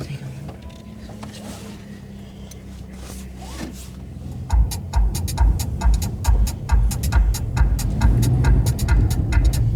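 A VW Lupo pulls away and drives, low engine and road noise building after a quiet start, with repeated clicks and rattles from the cabin and people talking inside.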